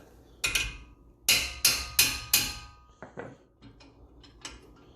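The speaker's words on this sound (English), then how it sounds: "if you give them a good smacking, usually works out pretty good" Hammer blows striking the front brake bolts on a 2015 Toyota RAV4 during a brake pad and rotor job: two sharp metallic hits, then four evenly spaced loud strikes, followed by lighter clinks and taps.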